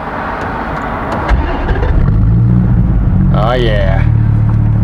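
A 2015 Dodge Viper T/A's 8.4-liter V10 cranks briefly on its big starter, then catches and settles into a loud, deep, close idle rumble, with a man's short exclamation and a faint chirp over it.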